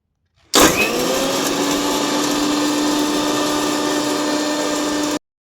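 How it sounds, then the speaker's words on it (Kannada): A mixer grinder grinding curry leaves into powder starts abruptly and runs at a steady, loud whirring drone for about five seconds, then cuts off cleanly. "ಇದನ್ನು ಒಂದು ಮಿಕ್ಸಿ ಜಾರ್ಗೆ ಹಾಕ್ಕೊಳ್ತಾ ಇದ್ದೀನಿ ಫ್ರೆಂಡ್ಸ್ ನೋಡಿ ಇವಾಗ ಇದನ್ನು ಫೈನಾಗಿ ಪೌಡರ್ ಮಾಡ್ಕೊಳ್ಳೋಣ"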